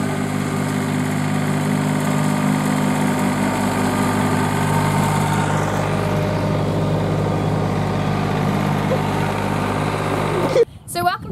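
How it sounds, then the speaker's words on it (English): A lawn mower runs outside a house with a steady, droning engine hum that continues evenly at moderate level, ending with a few brief knocks and bumps. "My dad's on the mower."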